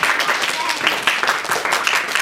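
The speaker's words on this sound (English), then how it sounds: "Give them a little round of applause" Children applaud in a group, giving a brief, uneven patter of clapping with a lively, scattered rhythm, mixed with some voices.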